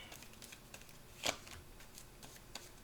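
Tarot cards are shuffled and drawn, giving faint, close, soft papery flicks and slides, with one sharper riffle burst near the middle, in an otherwise quiet room.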